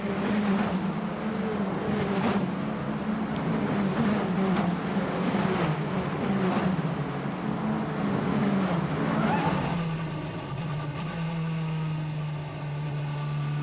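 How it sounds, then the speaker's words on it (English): Onboard a Red Bull–liveried F1 Academy single-seater racing around the Jeddah track, where the engine drones steadily and loudly as it revs up and down through gear changes, with the note shifting to a lower, steadier tone near the end. "So now we're on board with Hamda Al-Khabazi in the Red Bull racing car"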